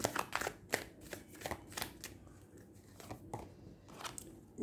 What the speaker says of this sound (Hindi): एक और एडवाइस का कार्ड मैं ले लेती हूँ।